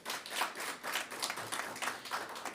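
Audience clapping at an anniversary hand-over ceremony, a dense steady patter of many hands filling the room for a few seconds with no voices over it.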